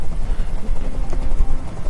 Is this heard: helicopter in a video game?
yes